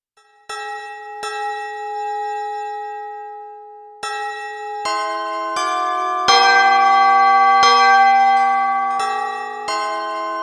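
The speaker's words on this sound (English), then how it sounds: "So that's the Japanese bell sound for junior high school." A Japanese junior high school bell chime rings out a slow, clear melody of resonant tones, each note sustained and overlapping the last, loud and close with no talking over it.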